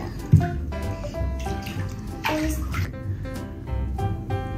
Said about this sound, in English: Our bath bomb is starting to dissolve.